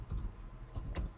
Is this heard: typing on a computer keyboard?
yes